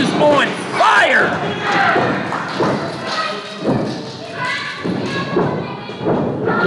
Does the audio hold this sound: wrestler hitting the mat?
yes